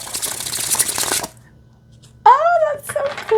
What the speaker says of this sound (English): let's check out how they shuffle